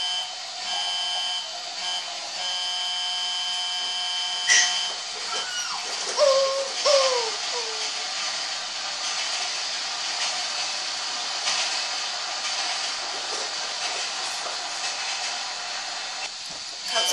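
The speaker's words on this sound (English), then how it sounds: "Here comes another train." Freight train rolling into a crossing in Grand Theft Auto 5, a steady whining, buzzing rail drone with tonal hums and a few brief squeals, moderately loud and continuous throughout.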